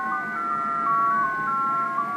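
Software-generated MFSK CQ DX digital signal audio, steady stepping electronic tones hopping between pitches over a faint noisy hiss, continuous and close with no talking.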